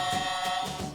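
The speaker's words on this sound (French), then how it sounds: "Ici, c'est le bruit de la marche arrière." Reversing beep from a Smoby Bob the Builder toy truck, a steady electronic buzzing tone that holds for most of a second before cutting off, close and fairly clear.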